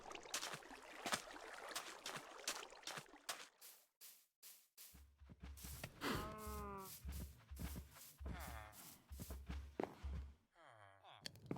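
Cows in Minecraft give several drawn-out, harmonic moos through the middle of the stretch, mixed with scattered footsteps and other in-game sounds.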